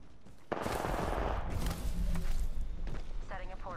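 Rapid gunfire in a video game, a dense burst of loud close shots and impacts lasting a few seconds, with someone talking over it.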